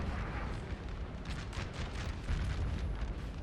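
Austrian artillery in a Napoleon Total War battle, a continuous low rumble of distant cannon fire with soft booms rolling under the noise, faint and steady throughout.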